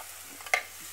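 A spoon gives a single short scrape while stirring a garlic mixture frying in a pan, with a faint sizzle underneath and otherwise near silence.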